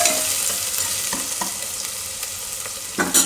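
Grated ginger sizzles and fries in a pan, a close steady crackle with soft scraping strokes as it is stirred, ending in a louder clatter of the utensil.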